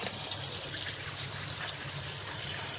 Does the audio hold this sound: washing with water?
yes